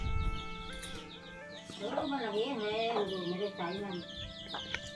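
Chickens clucking close by at a rural home, several soft rhythmic clucks and a short call, fairly quiet, with someone talking over them.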